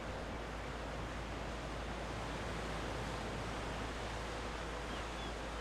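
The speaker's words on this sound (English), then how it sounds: "a place to sit quietly, listen to the waves" Waves wash onto an Irish beach as a steady, broad hiss of surf with no distinct breaks, heard from a distance without voices.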